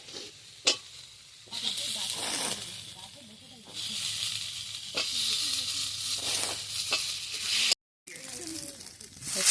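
Potatoes dropped into a hot pan for a Bengali bata fish curry, giving a steady hiss and sizzle that swells and fades with stirring, plus a few clanks of a utensil, with a person speaking at times.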